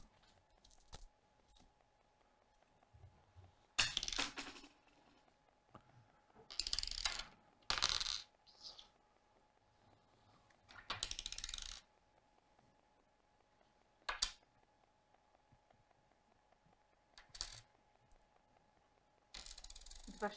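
Coins drop and clatter in a series of short, bright metallic bursts with quiet gaps between them, a one-zloty coin among them. The sounds are fairly near and no one speaks.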